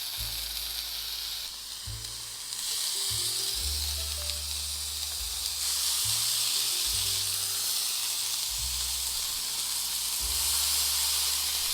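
Eggplant pieces sear on a hot grill pan over an induction hob, giving a steady loud sizzle and hiss throughout, with low tonal hum underneath and occasional soft clinks as pieces are laid down.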